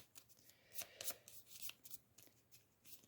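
A deck of game cards for the board game Final Girl is shuffled by hand nearby, giving soft riffling bursts and taps at an irregular rhythm, very quiet.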